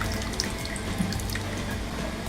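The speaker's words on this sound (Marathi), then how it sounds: "एक ते दीड ग्लास पाणी गरम करून घेतलेलं आहे ते घालते" Hot water, about one to one and a half glasses, pours steadily into a mashed masala mixture for Maharashtrian patvadi bhaji, a continuous close splashing gush with no voices.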